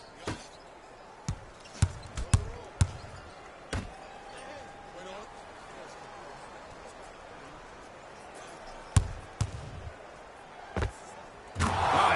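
Basketball dribbling in a PS4 basketball game, with sharp bounces coming in scattered clusters over quiet crowd ambience and no clear talk.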